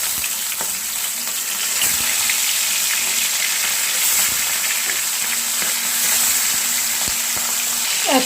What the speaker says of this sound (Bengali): তেলটা গরম হয়ে গেছে, এবার দিয়ে দিচ্ছি মাছগুলো।